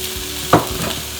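Wild turkey meat dropped into a pan of frying onions and peppers, a brief burst of sizzling as it lands over a continuous low crackle of cooking.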